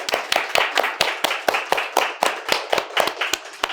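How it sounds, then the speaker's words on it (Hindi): A small group claps at a cooking workshop on South Indian food, a short run of sharp, evenly spaced claps in a brisk steady rhythm, close and clear with nothing else behind them. "जोरदार तालियां"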